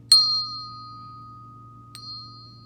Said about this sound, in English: they're the same pitch also